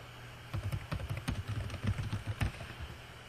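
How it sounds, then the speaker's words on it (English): Quick bursts of keystrokes clatter on a computer keyboard, close and crisp, starting after a brief quiet moment and continuing in irregular clusters to the end. "And you type a short description."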